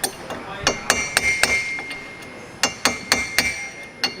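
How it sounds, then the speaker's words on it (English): Hammer lightly tapping a drive shaft centre bearing into place, giving a series of sharp metallic taps in irregular clusters, close and fairly quiet, with no talking. "So just very lightly, just tap it, make sure it's nice and home."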